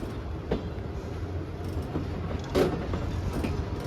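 The Allama Iqbal Express 10 Down, running from Sialkot to Lahore, stands at Badomali station with a low, steady rumble and faint clanks and squeals, heard from moderately close with no talk.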